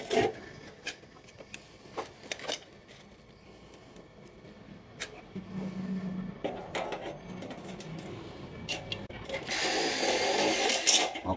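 A power screwdriver drives steel screws into a light steel channel, giving intermittent whirring and gritty bursts. It grows loudest and most sustained near the end, with faint handling clatter between bursts.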